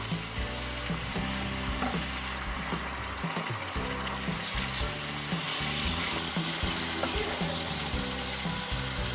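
Minced meat frying over high heat for keema kachnar, a dense continuous sizzle and hiss with a low rhythmic churning of stirring underneath, steady and close throughout.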